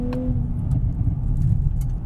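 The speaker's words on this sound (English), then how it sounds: "let's put it into Sport Plus, manual, downshift into second" Low, steady engine rumble from a 2024 Nissan Z NISMO in manual Sport Plus mode on a back road, heard from inside the cabin as it drops into second gear, a continuous drone with slight swells and no talking.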